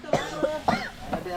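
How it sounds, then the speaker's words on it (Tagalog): A person coughs several times in short, harsh bursts, close by, mixed with voiced, strained sounds and a background hum. "Ay, hirap ng ubo"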